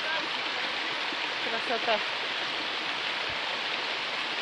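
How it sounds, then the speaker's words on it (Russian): Second waterfall on a mountain hike, a steady broad rushing roar of falling water fairly close, constant throughout, with a brief spoken word from a person over it. "Мы пришли на второй водопад"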